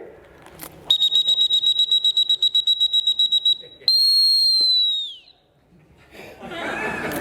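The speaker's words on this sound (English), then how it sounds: "When I blow my whistle like this, beep, beep, beep, beep" A shrill dog-training whistle blown in a rapid series of about fifteen short, even blasts, then one long sustained blast that fades, with faint voices around it.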